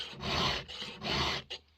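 Round file sharpening a chainsaw chain for cutting firewood, three close, loud rasping strokes, two long and one short, each a dry metallic scrape.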